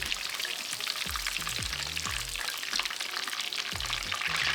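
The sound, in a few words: chicken for chicken parm frying in oil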